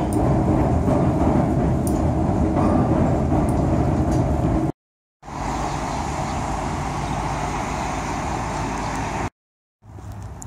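Loud continuous rumble and rattle of a moving Chicago Brown Line train heard from inside, with two brief cuts to silence.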